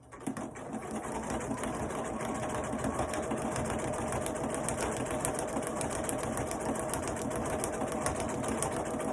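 A sewing machine runs continuously, a steady loud mechanical whir with rapid needle chatter, close up and alone for several seconds while stitching a gift box project.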